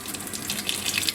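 Tap water running steadily while stainless steel falconry bells are washed with water and dish soap to clear borax residue; a continuous close splashing rush with no voices.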